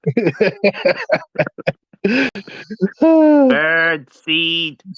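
A voice imitates an owl hoot with a drawn-out, wavering call, followed by a higher hooting note, coming right after a stretch of quick chuckling and speech.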